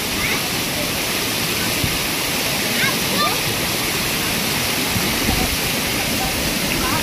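Chandranagar waterfall pouring in a steady, dense roar of rushing water, close and continuous throughout with no letup.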